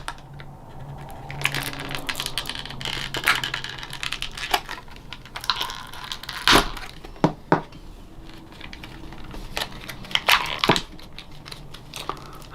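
A knife is worked out of toy packaging for a GI Joe Hiss Tank, producing close, irregular plastic clicks, snaps and crinkles in scattered bursts, with one sharper crack midway and no speech.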